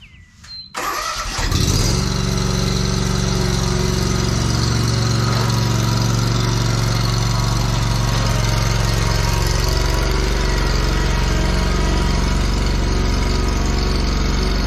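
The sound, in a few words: lawn mower running while loaded into 1989 Chevy K1500 bed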